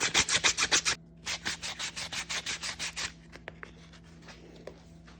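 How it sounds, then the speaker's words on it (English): 320 grit sandpaper rubs a pure silver coin ring in quick, rhythmic back-and-forth strokes, close and crisp, about six strokes, a short pause, then a longer run before fading to faint handling clicks. "Let's hit it with some 320 grit sandpaper"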